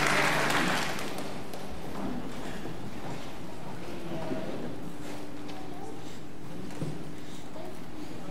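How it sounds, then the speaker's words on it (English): Congregation applauding during a church worship service, a broad wash of clapping that is loudest at the start and then settles into a steady, softer patter with some voices mixed in. "Would you give them a round of applause?"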